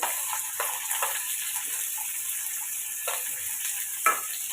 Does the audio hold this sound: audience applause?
no